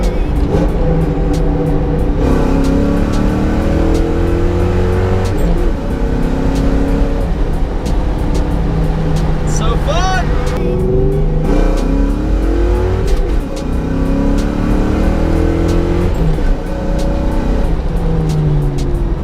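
A 1999-2004 Ford Mustang with the two-valve engine revs hard while driving, its loud, close engine note climbing and dropping through several gear changes with steady rumble throughout.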